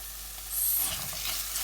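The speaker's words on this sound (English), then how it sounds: "Stir this with your onions for about a minute, just to cook out your tomato puree" Onions, garlic and tomato puree sizzle softly in a pan and grow a little louder as they are stirred, with a gentle steady frying hiss and no talking.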